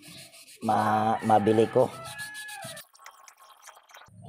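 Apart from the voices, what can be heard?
sanding with fine sandpaper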